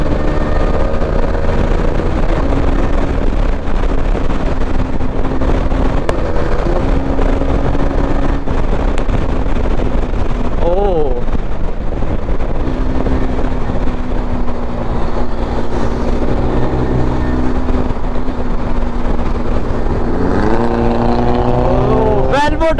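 Honda ADV 250 scooter racing a BMW car on a Delhi highway, with a steady loud engine drone and rising, shifting revs throughout, plus rushing wind; someone talks over the engine.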